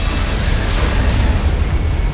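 A loud, dense explosion in Metal Gear Rising: Revengeance roars with a broad rumbling blast that holds steady for about two seconds.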